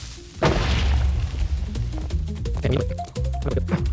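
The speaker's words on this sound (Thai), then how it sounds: "ระเบิดหน่อย" A deep booming blast in Minecraft followed by rumbling, crunching impacts and scattered clatter, loud and close.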